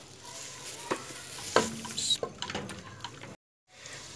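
Onion and chopped garlic sizzle softly in a frying pan for a desi tarka, with scraping stirs from a utensil and a brief sharp clink, before a short silent break.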